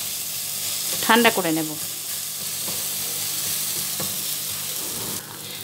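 Chilli powder and spices being stirred in a frying pan over gas, a steady sizzle with scraping strokes throughout, and a short burst of speech near the start over the frying.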